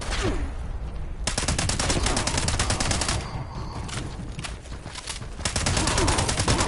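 Rapid automatic gunfire in the Fallout 76 video game, long dense bursts of rattling shots broken by short pauses, loud and close, with a player's voice faintly underneath.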